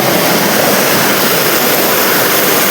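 Constant broadband roar of a waterfall pouring down at a hill station near Dholumbar, loud and unbroken throughout with no voices.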